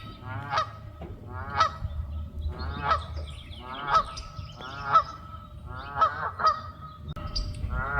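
Geese honk loudly and repeatedly, about one call per second, with low background rumble and no talking.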